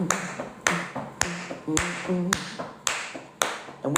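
A group of about 75 people clapping in unison at a Hoodoo church ring-shout gathering, steady sharp claps roughly every half second with no music, and sung or hummed tones faintly underneath.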